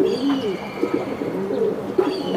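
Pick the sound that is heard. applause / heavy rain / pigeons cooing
pigeons cooing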